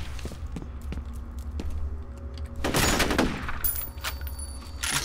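Sporadic video game gunfire from F.E.A.R. with a low rumbling backdrop, then a louder blast-like burst of grenades and gunshots near the middle, trailing into scattered further shots.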